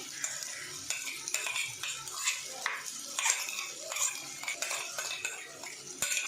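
A spoon scrapes and stirs crushed masi dried fish with ground coconut in a pan over low heat, with soft rhythmic clinks and light sizzling, close and fairly quiet, with no talk.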